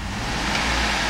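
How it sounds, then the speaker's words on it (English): A 2007 Chevrolet Suburban LTZ's 5.3-liter V8 engine revving, a steady, close motor roar with a brief rise in the middle, with no talk over it. "I'm gonna rev the engine"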